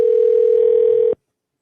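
A steady telephone dial tone hums loudly and evenly while a call is placed, then cuts off abruptly.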